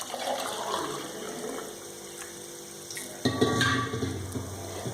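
Water poured into a pressure cooker holding rice and dal for pongal makes continuous splashing and trickling at close range. The pour grows louder and fuller partway through, with no talking.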